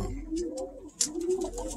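A pigeon cock coos with two soft, throaty rolling phrases, close and fairly quiet, with a brief sharp noise between them.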